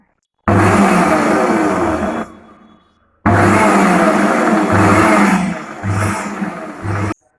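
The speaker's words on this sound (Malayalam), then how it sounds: "എന്നിട്ട് പൾസ് ബട്ടർ യൂസ് ചെയ്ത് നന്നായിട്ടൊന്ന് ബീറ്റ് ചെയ്തെടുക്കാം." A mixer grinder beats mayonnaise from sunflower oil in loud pulsed bursts, a long whirring roar, then a pause, then another run broken into shorter pulses, close up with no talk.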